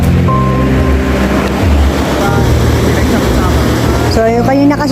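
Strong sea waves break on a sandy beach where people dig sand for gold, making a steady, loud wash of surf with wind noise, joined near the end by a brief engine-like whine.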